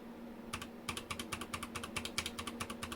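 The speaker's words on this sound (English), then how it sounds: "As you can see, I am typing on the keyboard and it does register" Rapid keystrokes on an Anne Pro II mechanical keyboard, a dense run of clicky, clacky presses in an uneven typing rhythm after a brief pause, close and clear with a steady low hum underneath and no talking.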